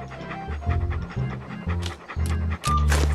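A dog in the Monkey Island 2: LeChuck's Revenge video game pants in rapid, rhythmic bursts, loud and close, with brief pauses and faint game sounds behind.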